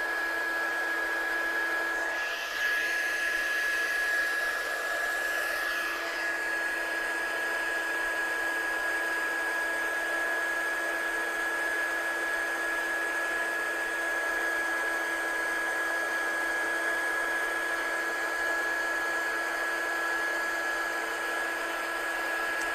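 A heat tool blowing steadily to melt embossing powder on card, a constant whirring hum with a fixed tonal whine that holds unchanged from start to finish.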